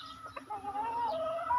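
Chickens that are soaking wet from overnight rain cluck and warble close by, a short burst of soft clucks followed by a drawn-out rising and falling call.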